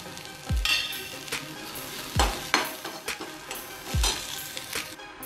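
Onion sautéing in oil in a pan for a Maharashtrian corn-cob patvadi curry, with a steady sizzle and three sharp scraping stirs of a spoon against the pan, close and clear, no voices.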